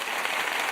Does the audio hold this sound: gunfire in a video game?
no